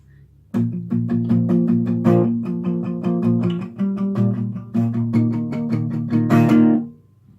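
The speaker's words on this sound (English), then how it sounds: "Only the first time you play these chords, you play all dead strums" Acoustic guitar chords: a fast run of muted, percussive dead strums scratches along close and loud, then a final normally strummed chord rings out fully before fading.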